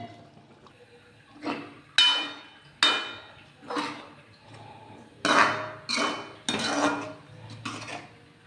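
Green turmeric sabzi with yogurt is stirred in a pan, a series of distinct metallic clanks and scrapes of a spoon against the pan, spaced irregularly about every second, close with faint background hiss between.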